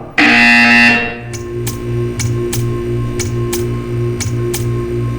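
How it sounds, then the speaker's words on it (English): A loud initial tone gives way to a steady electronic buzzing hum with regular clicking pulses repeating about every half second, from a buzzer in Portal 2. "When you hear the buzzer, stare at the art."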